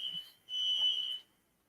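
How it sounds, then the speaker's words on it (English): A building fire alarm sounds in a high, piercing electronic tone, two close beeps, the second longer and louder, with faint background noise between. "The fire alarm in my building is going off."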